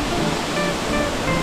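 Steady roar of a waterfall in Guatemala, a dense, continuous rush of falling water close by with no voices over it.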